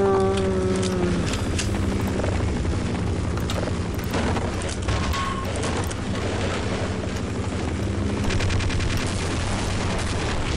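Enemy rocket fire against the player in Half-Life 1, a loud chaotic mix of explosions, gunfire and whooshing blasts over a rumbling mechanical drone, continuous and close.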